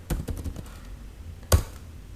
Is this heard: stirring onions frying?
no